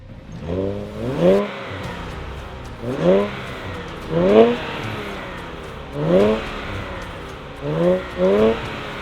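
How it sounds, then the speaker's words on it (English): Infiniti Q60 Red Sport engine pulling up through the revs in repeated rising surges roughly every two seconds, each climbing in pitch before dropping back, heard steadily from the car at driving speed. "Today I'm driving the Infiniti Q60 RedSport, or RS, whatever you want to call it."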